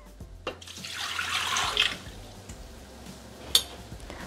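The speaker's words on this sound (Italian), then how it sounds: "Iniziamo la ricetta mettendo all'interno del boccale l'acqua," Water is poured into a Thermomix (Bimby) jug with a soft, steady splashing and trickle, fairly quiet and close. A couple of small knocks sound near the end, and there is no speech.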